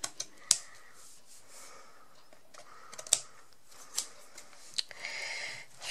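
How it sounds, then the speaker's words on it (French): Scissors trim excess paper from a scrapbook mini album, giving a series of sharp, close snips spaced irregularly over quiet rustling, ending in a brief papery swish, with no speech. "On va couper ce qui dépasse."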